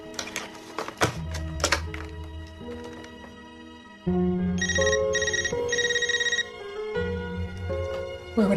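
Cell phone rings with a bright electronic melodic ringtone, repeating tonal phrases at moderate loudness, mixed with some soft thuds and taps nearby.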